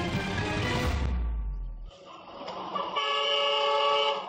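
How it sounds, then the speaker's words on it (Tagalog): A loud truck horn blares in a sustained honk after a rumbling, noisy passage, holding a steady tone for a couple of seconds. "Isang truck ang dumating at bumusina ng malakas."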